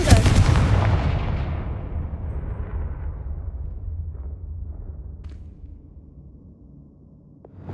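A Confringo explosive spell in Hogwarts Legacy goes off with a loud, sudden blast. It is followed by a long rumbling decay that fades over several seconds, with a few faint clicks after it.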